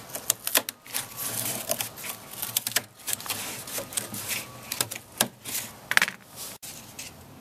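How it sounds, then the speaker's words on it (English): Scissors or a blade cut through a cardboard box for a Halloween costume, heard up close as a run of sharp, irregular snips and crunches with brief pauses between strokes. "I'm going to cut the shape of my outfit."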